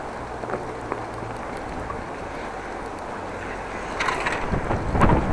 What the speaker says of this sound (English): Stiff wind blowing. Headwind now.